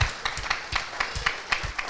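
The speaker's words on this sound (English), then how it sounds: "Can we just give Dave and yourselves and Bloom just a huge gratefulness round of applause?" An audience claps in a round of applause, the claps fairly sharp and regular and coming in quick succession for the whole stretch.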